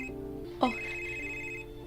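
A telephone rings in an indoor drama scene, a steady electronic tone that holds for over a second after a brief louder burst, fairly close and clear with no talk over it.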